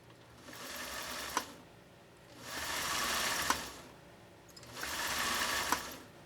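A Singer sewing machine runs on a foot controller in three separate bursts of steady mechanical whirring, each rising and then cutting off, close and fairly quiet, with pauses between them.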